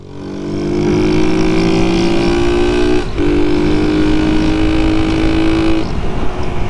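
A car drives close by on a road, a steady loud engine hum with rising harmonic tones that swell, dip briefly midway and carry on until near the end, no voices over it.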